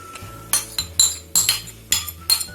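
Half a kilo of chicken with tikka masala and yogurt is mixed in a bowl, giving about six sharp, close metallic clinks of a utensil against the bowl in an uneven rhythm, with quiet gaps between them.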